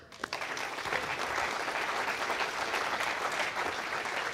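Dense applause at a Vega rocket launch broadcast, starting with a few separate claps and quickly swelling into steady, continuous clapping from a sizable crowd.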